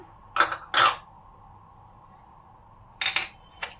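Caster sugar and brown sugar being mixed in a bowl, with short metallic scrapes and clinks of a utensil against the bowl in two brief pairs separated by a quiet pause, close by.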